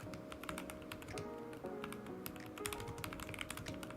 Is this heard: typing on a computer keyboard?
yes